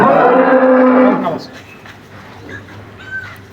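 A large dairy cow with her six-day-old heifer calf lets out a loud, drawn-out moo lasting about a second, close by, followed by quieter farmyard background.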